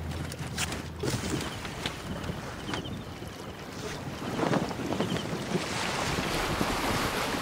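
Wind and waves wash steadily around a boat sailing on water in Assassin's Creed Origins, a soft, continuous rush of surf and breeze with no speech and a slight swell toward the end.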